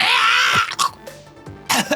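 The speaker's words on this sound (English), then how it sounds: "kind of coughs a second" A short, raspy cough with a throat-clearing quality, heard up close as two or three brief bursts between quieter breathy moments.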